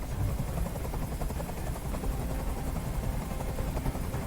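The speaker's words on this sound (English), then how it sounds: "I can't stand that noise anymore. Tell that helicopter to get out of here." A steady, throbbing helicopter rotor drone in the video game Detroit: Become Human, continuous and fairly loud, with no talking.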